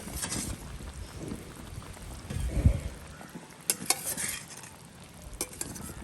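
A pot of dried fish and egg curry bubbles on the stove with a soft, steady simmering hiss, and a few sharp metallic clinks of a ladle against the pot rise above it near the end.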